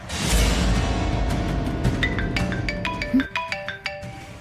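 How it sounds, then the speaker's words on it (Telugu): A phone rings, its melodic electronic ringtone starting about halfway through as a run of short, bright, repeated notes over a low background, loud and close, with no talking. "ఇది ఫోన్ చేస్తుందండి."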